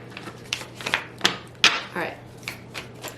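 Tarot cards are riffled and tapped in quick, uneven bursts of crisp papery snaps, close by, with a quiet background hum.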